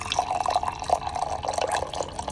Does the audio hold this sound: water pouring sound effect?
yes